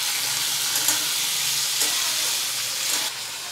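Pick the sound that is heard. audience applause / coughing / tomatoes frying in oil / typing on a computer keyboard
tomatoes frying in oil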